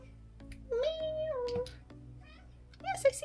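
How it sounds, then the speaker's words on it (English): A house cat meows a couple of times indoors, quiet and close, one drawn-out call followed by a shorter one after a pause. "Meow. Meow."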